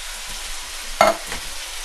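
Canned diced tomatoes are stirred into softened vegetables in a hot pan, giving a low steady sizzle broken by one sharp scrape of the spoon and a softer stir just after, with no talking.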